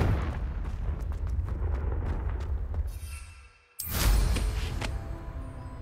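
A Confringo blasting spell goes off in Hogwarts Legacy, a loud rumbling explosion with a dense low roar, a brief drop to near silence, then a second sharp, bright blast that decays into a lingering rumble.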